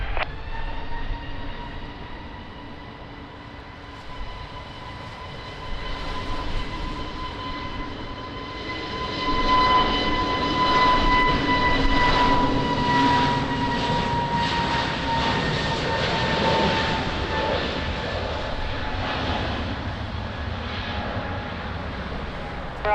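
An airliner takes off at Lisbon Airport in wind and rain, its engine roar swelling from a distant whine to a loud, sustained rumble with a steady tonal whine on top, then slowly fading.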